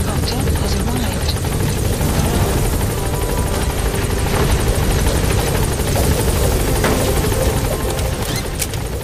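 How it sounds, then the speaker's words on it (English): A support helicopter in Metal Gear Solid V hovers at a landing zone, its rotor thudding loudly and continuously throughout, with a game voice speaking over it. "Support helicopter has arrived."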